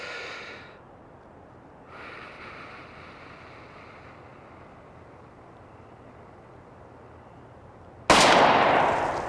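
Ruger GP100 revolver firing a hot .44 Special handload of 14.5 grains, a single sharp loud outdoor shot near the end of the clip after quiet wind noise and faint breathing.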